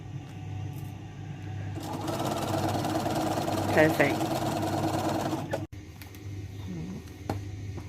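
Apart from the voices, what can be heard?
sewing machine stitching quilt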